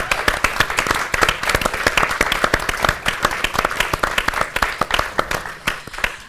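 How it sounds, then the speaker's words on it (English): Conference plenary audience giving a round of applause, dense steady clapping from a crowd of many hands, loud and close, continuing for several seconds. "can we please give a huge round of applause for Lara and Simon"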